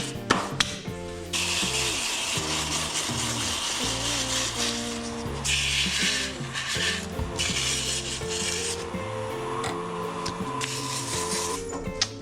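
Sandpaper rasps steadily against a scoop made from coffee beans, a continuous close rubbing sound that runs for several seconds beneath background music.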